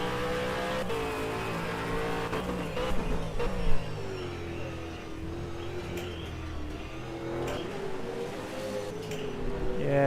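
V8 race cars at Winton circuit roar past in a continuous engine drone, with rising and falling revs and a louder burst as cars pass close, fading back to a steady distant howl.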